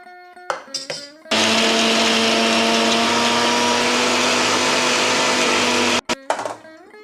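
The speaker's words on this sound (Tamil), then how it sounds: "ஊற வச்ச முந்திரி கசகசாவை கொஞ்சம் தேங்காய் போட்டு நைஸாக அரைச்சிடலாம்." Kitchen blender grinding soaked cashews, poppy seeds and coconut into a smooth paste, a loud steady motor whine running for about five seconds, bracketed by brief clatter and short bursts at start and end.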